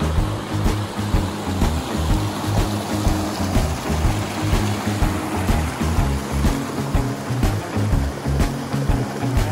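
The Puritama river, carrying warm water through the Guatín canyon in the Chilean desert, makes a steady, dense rush that stays close and loud with no pauses. There is no talking.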